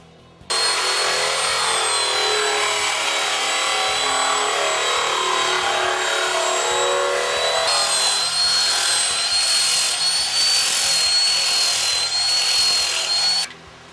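A grinder with a coarse 24-grit abrasive sands cured Solarez UV polyester fiberglass resin around a surfboard fin box, a loud, continuous close-up whirring grind that holds steady for about thirteen seconds before cutting off.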